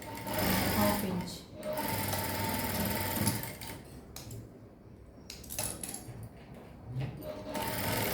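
A sewing machine stitches the shoulder seam of a kids' lehenga in fast mechanical bursts, starting and stopping over several seconds, close and fairly loud, with someone talking in between.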